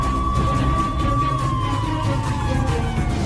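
An ambulance siren wails loud and close, its tone sliding slowly downward over a low rumble of traffic, with no talking.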